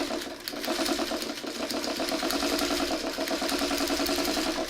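A sewing machine runs steadily through fabric with an even, rapid mechanical pulse, close and continuous, with no talking.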